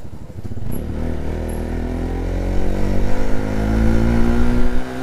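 A Bajaj Pulsar NS200 motorcycle being ridden, its engine droning steadily close by and building in pitch and loudness as it accelerates, with no talk.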